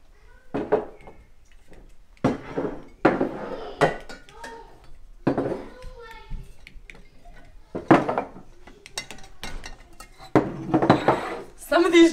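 Glass canning jars and their metal lids are handled and checked, making a series of sharp clinks and knocks in separate bursts with quiet gaps between them. Someone talks softly in the background.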